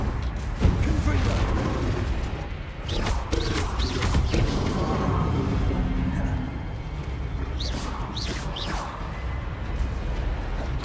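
Confringo fire spells burst repeatedly in Hogwarts Legacy amid combat, with booming blasts and crashes over a busy game soundscape while someone talks throughout.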